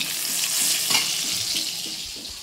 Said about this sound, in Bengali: এখানে আগে বেগুনগুলো সব ভেজে নিচ্ছি